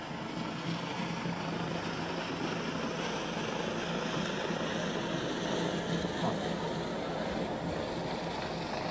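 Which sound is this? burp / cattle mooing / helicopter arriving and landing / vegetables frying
helicopter arriving and landing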